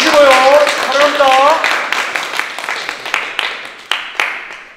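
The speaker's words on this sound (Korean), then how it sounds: "큰 박수 한번 부탁드리겠습니다" An audience at a shooting match award ceremony claps in a thin, scattered patter of individual claps that rises and then trails off, following someone talking loudly over a microphone.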